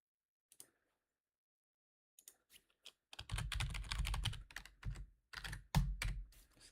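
Fast typing on a computer keyboard during a live draft broadcast for a capture-the-flag league: a few scattered keystrokes, then dense bursts of clattering clicks, close and clear with no talk.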